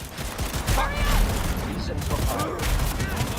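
Gunfire in the video game Cyberpunk during a Night City firefight, a steady dense clatter of rapid shots running throughout, mixed with game sounds and voices.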